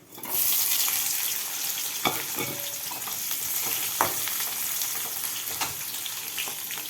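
Dried red chillies crackle and sizzle in hot oil with mustard seeds and urad dal, a steady close frying hiss with occasional sharp pops and stirring scrapes, no talking.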